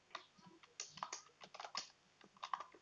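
Quick, irregular clicking of computer keyboard keys being typed in short bursts, fairly close and moderately quiet, with no voices over it.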